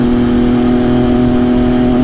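MV Agusta F3 800 sport motorcycle engine holding a loud, steady high rev, a constant close-up drone with a strong tonal whine and no voices.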